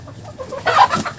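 Chickens in a backyard poultry housing give a short burst of clucking, close and moderately loud, rising in the second half with a few sharp calls.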